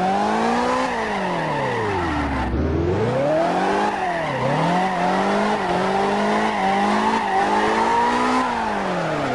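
A stock car in the mobile CarX Drift Racing game drifts with wheel spin, its engine whining and swooping up and down in pitch over continuous tire squeal, loud and steady throughout.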